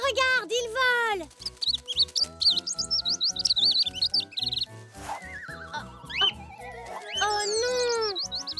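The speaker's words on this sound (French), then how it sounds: "Poc, tu as sauvé le bébé oiseau" Rapid high-pitched chirps and tweets of a cartoon baby bird, loud and close, repeating in quick bursts over a lively animated soundtrack with music throughout.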